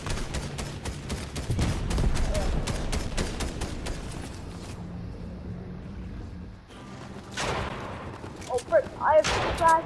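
Rapid gunfire in the Fortnite battle royale game, dense bursts of close shots in the first half, then further scattered shots and impacts, with a voice talking over the fighting.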